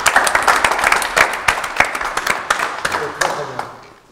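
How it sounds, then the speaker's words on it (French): Loud, sustained applause from a conference audience, many hands clapping in a dense crackling burst with a few sharper claps standing out, fading off at the end, with voices faintly under it. "On applaudit très fort."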